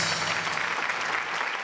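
A studio audience at a comedy show applauds after a comedy act, with steady, dense clapping throughout.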